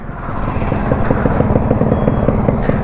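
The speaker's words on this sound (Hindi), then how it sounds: "हम यहाँ रुकेंगे थोड़ा सा, आपको बाइक की आवाज़ सुनाई जाएगी।" A Yamaha RX-100 motorcycle engine running while stopped, a close, loud, rapid, even pulsing throb that holds steady throughout with no voices.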